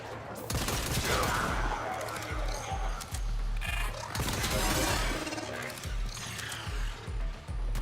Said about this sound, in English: Just shooting the ones who are trying to touch the console.